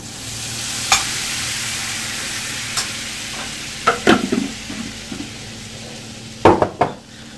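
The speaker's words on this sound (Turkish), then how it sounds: "Sonra karıştırıyoruz güzelce." Melted butter and a spoonful of flour stirred in a hot pan for a cheese sauce, giving a steady sizzle with a few sharp clicks and scrapes of the utensil against the pan, heard close with no talking.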